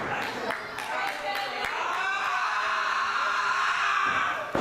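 A wrestler screaming in pain at a wrestling show as his hand is stamped on, loud drawn-out cries over crowd noise and sharp slaps.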